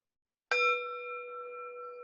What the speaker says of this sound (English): That could be our cue to invite the bell.